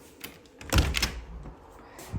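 A door from a house kitchen opens out to the rear garden, a soft handle rattle followed by a solid thunk and a brief swinging creak, close by.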